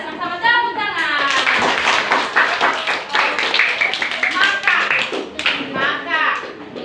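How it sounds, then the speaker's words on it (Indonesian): Children clap together in a classroom, a brisk run of hand claps under and between the voices of kids and a teacher speaking nearby. "Mari kita sama-sama tepuk tangan."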